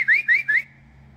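A person whistles to call bluebirds to feed: three quick rising whistled notes in a short rhythmic burst, close and clear, then silence.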